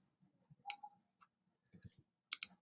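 Short, crisp computer mouse clicks come in small clusters in a quiet room, close and clear with silent gaps between them.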